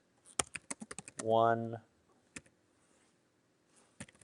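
Typing on a computer keyboard, with a quick run of close key clicks, a short pause while a voice speaks briefly, then a few scattered final taps.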